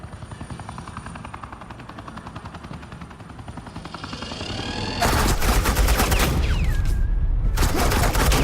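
Suppressing gunfire in the Batman The Enemy Within video game, dense automatic bursts that start loud and abruptly after a quieter stretch of helicopter-like droning, continuing steadily with a whine sweeping through.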